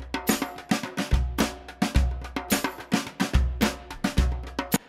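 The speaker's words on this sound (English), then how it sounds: "And this is what that sounds like with a little hand drum playing along." A small drum kit recorded with only kick, snare and room mics beats a steady groove while a hand drum plays along, giving boomy, tom-like low thumps and crisp repeated hits with no voice over them.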